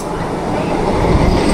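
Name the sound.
passenger train running into Bardhaman junction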